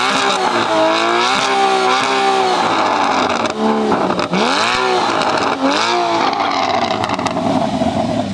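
A Porsche Cayman fitted with an exotic exhaust upgrade revs hard and loud nearby, rising and falling through several sharp bursts of engine sound, with no one talking.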